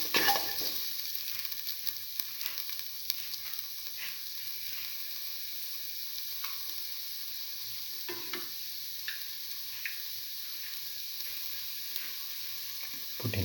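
Garlic, mung beans and tamarind pasta ingredients sizzling in a hot pan, a steady bright frying hiss with faint scrapes of stirring now and then, close and continuous without voices.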